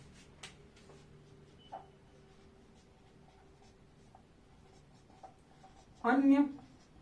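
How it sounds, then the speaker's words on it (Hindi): A lecturer writes notes on a board during a Hindi lesson on the Election Commission, with faint scratchy strokes and light taps in a quiet room, followed by a short burst of voice near the end. "आइए लिखते हैं"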